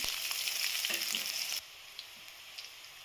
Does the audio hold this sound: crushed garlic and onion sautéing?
yes